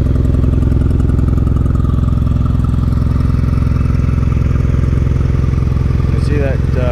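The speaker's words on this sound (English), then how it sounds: "I'm at an idle. Right now it's idling, no choke." A Honda Nighthawk motorcycle converted to a cafe racer, with a jet kit in the carburetors, idles close by without choke, a steady loud chugging rumble that holds an even rhythm throughout.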